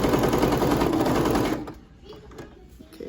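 A sewing machine stitches a fabric face mask with elastic, a loud, rapid even chatter for about a second and a half before it stops, leaving quieter handling noises.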